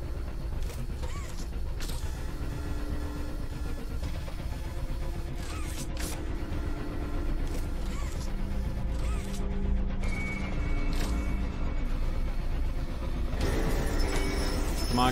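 Train moving in the horror video game Poppy Playtime Chapter 2, a steady low mechanical rumble and rattling with occasional clanks and metallic squeals running throughout, loud and continuous.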